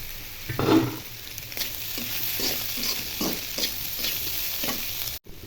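Fried eggs and potatoes with salt are stirred in a hot pan for noodles, with scraping spatula strokes and clinks over a steady close sizzle, followed by a brief drop near the end.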